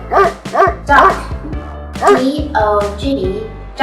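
A friendly dog barks and yips in several short bursts close by, loud and clear, with brief whimpering notes and a voice speaking between the barks.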